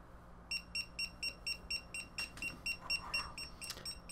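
Rapid, evenly spaced high-pitched electronic beeps from a Bluetooth tracker tag alert, about a dozen in a row, fairly faint and close, with a few soft clicks near the end.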